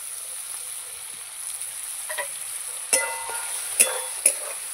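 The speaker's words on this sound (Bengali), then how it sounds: "এবার মশলাটাকে আর মাংসটাকে একদম কষাবো ভালো করে।" Spice paste and meat stir-fried in a pan for a Bengali meat curry, a soft steady sizzle with three sharper scraping clatters of the spatula toward the end, close and without voices.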